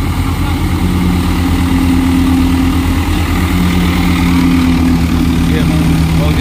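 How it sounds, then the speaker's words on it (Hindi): A Swaraj 744 XT 52 HP tractor engine drives a wheat thresher on a farm, a loud continuous low droning rumble with steady mechanical hum and pitch shifts as the load changes, close by, with a voice speaking over it. "कैसे आवाज़ चेंज हो जाती है ट्रैक्टर की।"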